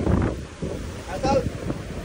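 Seaside wind at Lagusan on the Ilocos coast buffets the microphone in strong gusts, rumbling and roaring close up while people talk over it.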